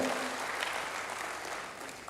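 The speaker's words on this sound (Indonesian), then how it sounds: "Berikan tepuk tangan hebat bagi dia." Church congregation applauding in a dense, steady wash of clapping that fills the whole stretch evenly, heard from within the room with no talk over it.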